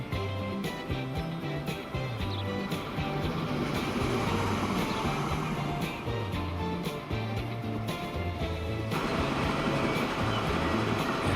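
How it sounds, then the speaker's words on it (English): A video-game train rumbles along steadily with a low rolling drone and faint rhythmic clatter, continuous and moderately loud throughout. "Alright, here comes our first train."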